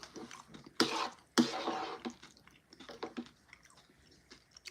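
Wet, open-mouthed chewing of fried rice sounds close by, with two louder bursts early on followed by softer smacking and squishing in an irregular rhythm.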